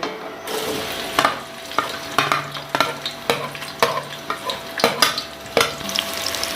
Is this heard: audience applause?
no